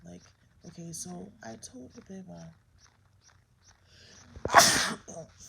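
A single sharp, loud sneeze bursts out near the end, after a person speaks casually in a quiet room.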